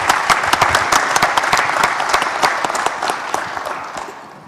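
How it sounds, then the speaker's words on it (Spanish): Audience at a regional political gathering breaks into brisk applause, many hands clapping with distinct sharp claps audible in the mix, tapering slightly toward the end. "para quien también pido un aplauso"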